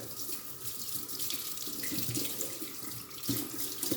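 Tap water runs steadily into a kitchen sink while a cleaning sponge is wetted under it before scrubbing an air fryer, a continuous close splashing flow with small shifts as the sponge moves through the stream.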